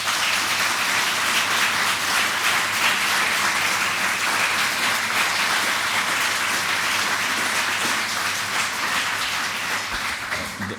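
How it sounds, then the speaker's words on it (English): Sustained applause from a commencement ceremony audience at the Norman Foster Institute, honoring the tutors, as a dense continuous wash of clapping that holds steady and eases slightly near the end. "So an applause to them, I think."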